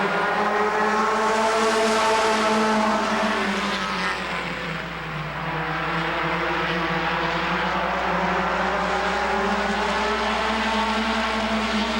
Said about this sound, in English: Pace car picks up the pace, lights are out as they come around.